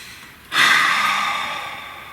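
A single deep breath drawn in close to the microphone, beginning abruptly after a brief quiet moment and then fading slowly as a long airy rush, with no words spoken.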